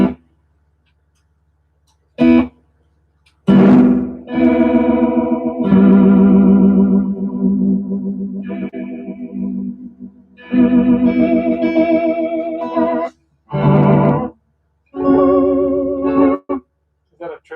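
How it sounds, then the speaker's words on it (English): An electric guitar played through a clean Vox AC30 amp with a Telray effect sounds in short phrases separated by pauses, its notes wobbling and echoing with a warped, swirling tone. "So now it's just a clean amp right now, the AC30. And here's the Telray."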